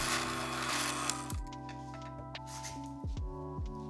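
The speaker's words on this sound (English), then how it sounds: "I'll just be using a regular drill bit to complete the through hole" A regular drill bit cuts a through hole for a homemade fruit press, a steady motor whine with grinding bursts and a few dips as the bit bites, fairly close.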